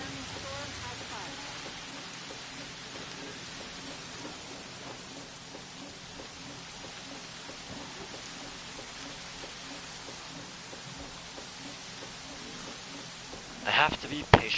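Rain falling outside during a storm in Jurassic World Evolution, a soft continuous patter and hiss with faint low rumbles, ending in a few sharper louder hits.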